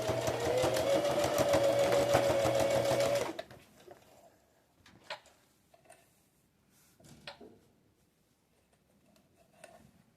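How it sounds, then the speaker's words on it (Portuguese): Sewing machine stitching fabric pieces for a small zippered pouch, a steady close mechanical whir with rapid ticking for about three seconds, then stopping, followed by soft handling clicks and rustles. "E continuo a costura. E retrocesso no final também."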